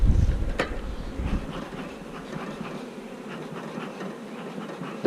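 A steady, dense buzzing of many queenless, agitated honeybees, close and continuous, with a sharper burst near the start before settling into an even drone.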